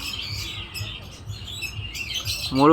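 Fighting-cock chicks chirp in quick high bursts inside a large wholesale bird shop, set against steady shop noise, with a louder close squawk right at the end.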